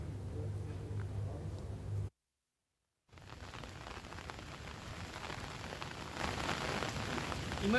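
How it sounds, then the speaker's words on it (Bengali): Heavy monsoon rain in Teknaf makes a steady, dense wash of loud rainfall on surfaces. A low rumble runs under it at first, then a second of silence, and the downpour continues and swells toward the end. "টেকনাফে যে ভারী বৃষ্টি হচ্ছে"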